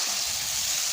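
Potatoes frying in hot masala for aloo karela, a steady, dense sizzle with a faint bubbling underneath, close and continuous.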